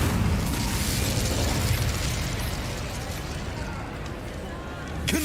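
Confringo and Bombarda spell blasts in Hogwarts Legacy on PC burst and rumble in a dense, continuous wash of loud game noise, with voices mixed in.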